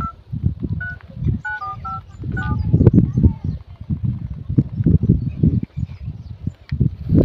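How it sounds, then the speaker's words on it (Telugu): Someone dials a phone to place a call, and a quick run of short keypad tones beeps close by. Voices and outdoor rustling continue underneath and after the tones. "ఫోన్ చేద్దాం."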